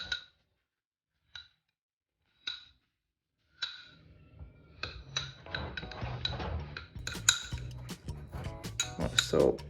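A spoon pushes down and levels sourdough starter in a container, giving a few isolated clinks at first, then a steady run of scraping, tapping and clicking against the container, close and fairly quiet.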